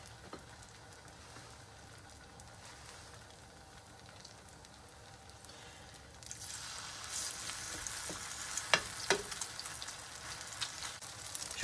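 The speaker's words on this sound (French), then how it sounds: "Dans une poêle avec de la matière grasse, je vais venir faire des petits tas." Small heaps of potato batter for crique fry in a greased pan, a faint, soft sizzle that grows louder and busier about halfway through, with occasional light crackles.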